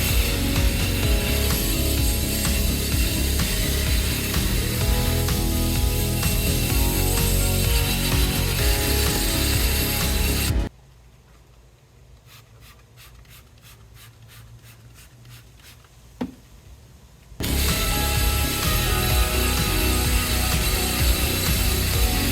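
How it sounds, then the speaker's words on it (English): A drill-mounted brush scrubs cleaner into the carpet of a 2002 GMC Yukon, a loud continuous whirring grind that stops for several seconds of quiet clicking before resuming at full strength. "And then we'll come in and agitate with the drill brush."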